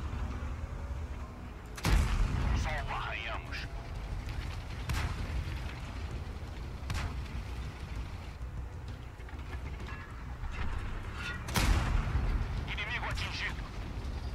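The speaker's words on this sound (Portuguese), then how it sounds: "Artilharia em mim, mano." Heavy artillery shells strike nearby in World of Tanks while driving the IS-6 B, two big booming impacts several seconds apart over engine rumble and battle noise, with someone talking in Portuguese in between.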